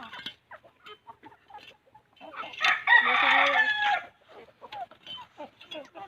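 Chickens in a backyard feed on termites, clucking intermittently with soft scattered calls and one louder drawn-out squawk, close to the listener and with no talk.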